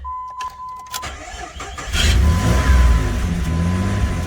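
A car engine cranking and catching after an ignition interlock device was disconnected: a few clicks and a brief starter whir, then the engine fires and settles into a loud, steady idle close by.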